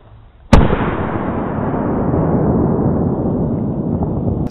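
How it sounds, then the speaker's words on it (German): An Explode double-bang firecracker goes off with one sudden, very loud blast, followed by a long rolling echo and rumble that fades slowly over several seconds outdoors. "Doppelknall von Explode."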